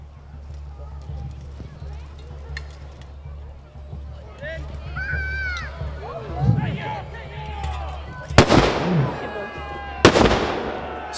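Grenades bursting during a recreated 1464 castle siege, two sharp loud blasts near the end after a stretch of narration over a low rumble and scattered background noise.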